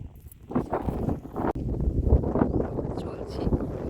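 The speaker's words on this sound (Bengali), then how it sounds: "এখন ভালো হাওয়া দিচ্ছে" Wind blows steadily across the microphone outdoors at a countryside resort near sunset, a continuous low rumbling buffet with slight gusts.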